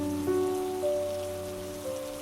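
Rain falls as a steady, even patter beneath soft jazz with sustained, gentle tones, forming a continuous, mellow background.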